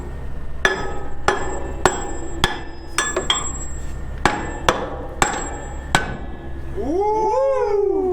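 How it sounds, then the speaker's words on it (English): Hammer beating on a stuck car brake drum from underneath the vehicle, about a dozen sharp metallic whacks in an uneven rhythm, loud and close, followed by a wavering animal-like howl at the end. "We're gonna have to go under and beat the brake drum"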